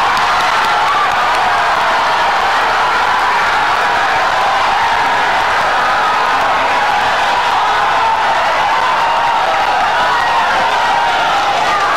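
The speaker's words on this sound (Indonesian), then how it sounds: "Silakan tepuk tangan." A large crowd at the 2014 Indonesian presidential debate roars with sustained applause and cheering, a loud, dense, unbroken wall of clapping and voices lasting the full twelve seconds.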